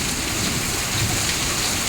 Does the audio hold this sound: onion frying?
no